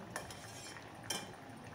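A spoon scrapes softly through cooked pumpkin with salt in a cooking pot, giving two faint stirring strokes against quiet background hiss, with no talk.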